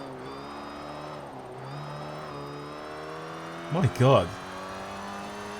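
A classic Citroen DS on race tires in Forza Horizon 4 holds a steady, tonal engine whine throughout, with a brief exclamation from a man cutting in near the end.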